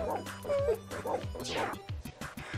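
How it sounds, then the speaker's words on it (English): A dog barks, yips and whimpers in the Beethoven's 2nd video game, several short cartoonish bursts in quick succession, loud and close over a game soundtrack. "I gotta drop the dog! got no shake left! Bark!"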